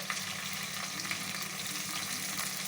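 Steady, dense sizzle of chicken frying in plenty of oil in a pan, constant and close with no talking.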